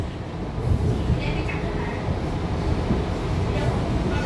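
A Sydney Trains T4 service rolls into Hurstville terminus, a steady low rumble of wheels and motors heard from on board, moderately loud and continuous, with faint talk mixed in.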